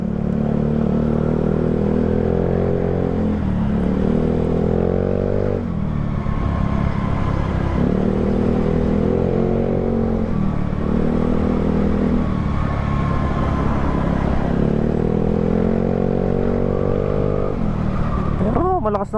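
A Yamaha Mio Sporty scooter engine with a freshly cleaned CVT drones steadily while riding, its pitch rising and falling with shifts in throttle, close and continuous throughout.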